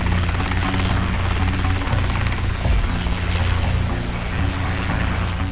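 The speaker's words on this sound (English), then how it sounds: "the 100-foot-long Boeing CH-47 Chinook helicopter" A Boeing CH-47 Chinook twin-rotor, twin-engine helicopter produces a loud, continuous low throbbing rotor drone with a steady hiss over it, close and unbroken, with no voices.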